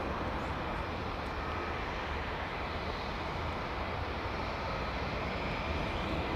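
A Boeing 777 airliner's engines give a steady, broad roar at a distance. The noise is constant and even throughout, with no talking.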